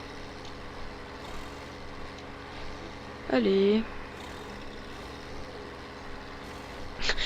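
An off-road truck in the SpinTires driving game reverses with a steady, low engine drone throughout, while someone briefly speaks over it midway.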